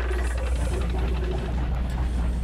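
A failing airship engine in the video game Mega Man Legends rumbles as a loud, continuous low drone with a rough, knocking texture, holding steady throughout without any talking.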